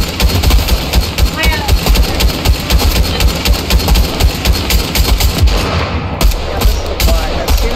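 Rapid bursts of automatic gunfire fill a Fortnite match, loud, dense and nearly continuous, with a brief lull near the end before more shots; a voice talks faintly underneath.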